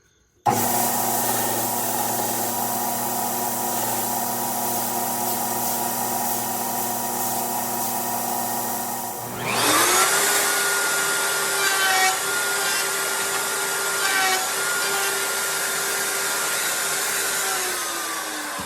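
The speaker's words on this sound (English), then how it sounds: "Now we'll go to the grinder." A grinder shaping a knife handle: a steady whining motor hum for several seconds, then a harsher abrasive grinding drone as the handle meets the belt, loud and continuous with no talking.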